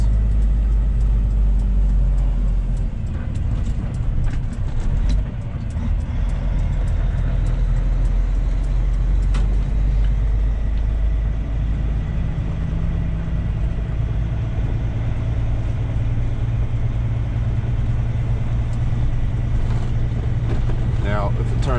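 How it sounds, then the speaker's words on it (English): Road traffic streams past a stopped vehicle waiting to make a right-hand turn, a loud continuous low rumble of engines and tyres with passing swells, while a person talks over it. "I'm just letting all the traffic around me before I make a right hand turn"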